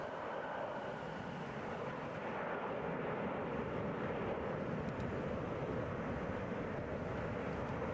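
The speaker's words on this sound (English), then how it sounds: "touch down, Southwest Airlines flight 2879 coming from Indianapolis. That's a Boeing 737. Wheels down there" Southwest Airlines Boeing 737 touching down at Atlanta International Airport, a steady broad jet roar holding loud and even throughout, with wind rumble and no voices.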